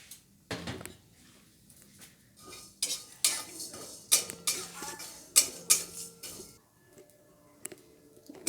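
Dry-roasting four cardamom pods and a spoonful of mace in an empty pan: irregular metallic clinks and scrapes of a spoon stirring against the pan, close and sharp, with short quiet gaps between strokes.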